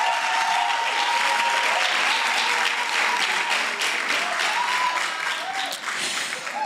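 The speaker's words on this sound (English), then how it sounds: "Can we please just show our appreciation with a round of applause?" Sustained audience applause for outgoing Student Representative Council members at an inauguration ceremony, a dense steady wash of clapping from a large crowd with faint voices mixed in, fading slightly near the end.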